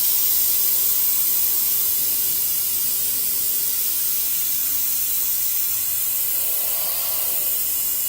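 An airbrush sprays paint onto a CNC 3040 workpiece, giving a steady, close, continuous hiss of air and atomised paint that holds evenly from start to finish with no voices.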